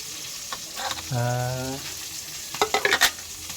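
Tuna jaw fries in a pan with a steady hiss and sizzle, broken by a brief voice and a run of sharp utensil clatters near the end.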